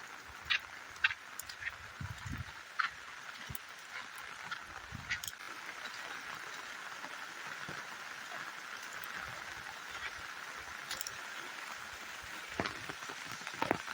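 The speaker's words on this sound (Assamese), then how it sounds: "ৰাস্তাত কোনো মানুহ নাই, বৰষুণ দিছে" Steady rain patters on an empty road, a continuous hiss with scattered louder drops and brief low thumps, heard alone without voices.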